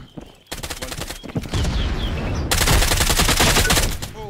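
Rapid bursts of automatic gunfire ring out in the VR shooter Contractors Showdown, with a short pause and then dense, loud volleys that continue almost without a break.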